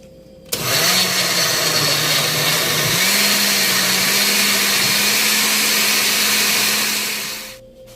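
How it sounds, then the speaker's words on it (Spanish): A kitchen blender runs steadily for about seven seconds, loud and close, whirring through a sauce with half a chicken bouillon cube, its motor pitch dipping briefly early on before settling into a constant roar. "Y lo ponemos a licuar."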